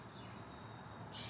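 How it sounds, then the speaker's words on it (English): Outdoor birds chirp in high, thin bursts, with a brief trill followed by a brighter call at the end, faint and distant over a steady background hiss. "the birds are being really loud"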